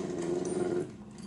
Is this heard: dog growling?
yes